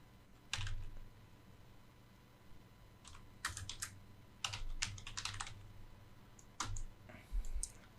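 Bursts of quick clicking keystrokes on a computer keyboard while typing end credits, coming in short clusters separated by pauses, close and fairly quiet.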